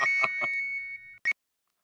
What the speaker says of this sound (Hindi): फिर से बासुंदी का फोन होगा।